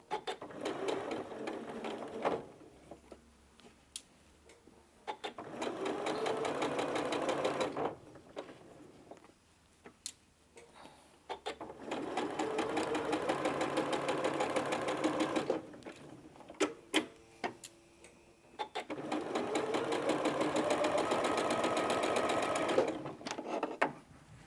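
A sewing machine stitches rows of tumbler-cut quilt patches together in three long steady whirring runs, separated by quieter pauses with small clicks and handling noises, recorded close up.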